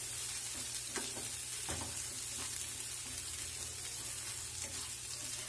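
Green peas sizzle steadily in a pan while frying for UP-style matar nimona, a constant close crackle with a few soft stirring scrapes and no talking.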